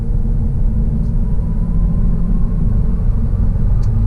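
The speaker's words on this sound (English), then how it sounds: "We are going to get our acceleration right now." A 2019 Honda Civic with a turbocharged 1.5 liter engine accelerates on an interstate, a loud steady low engine and road rumble heard from inside the cabin with no talk.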